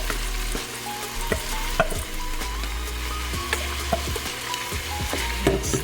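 Rice added to a pot for Filipino arroz caldo sizzles steadily in hot oil, with intermittent sharp clinks and scrapes of stirring throughout; no voices.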